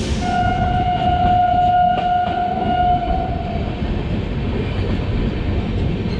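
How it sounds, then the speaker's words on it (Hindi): The Amritsar Jaynagar Express arriving at Moradabad station sounds a long, loud, steady horn blast over the rolling rumble of the train, which keeps rumbling after the horn stops. "ये कौन सी ट्रेन आ रही है? अमृतसर जयनगर एक्सप्रेस।"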